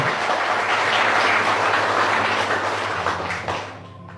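A church congregation gives loud, dense, sustained applause for the Holy Spirit, holding steady for several seconds before quickly tapering off.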